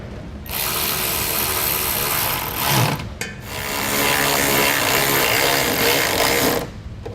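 A power tool drives screws into the rear fascia support of a 2017 Jeep Cherokee in two long, loud, steady whirring runs, split by a short pause, with no speech.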